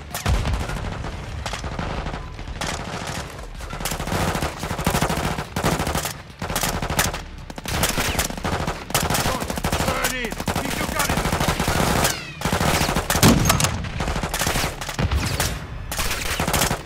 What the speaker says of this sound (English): Johnny, detonate that APC.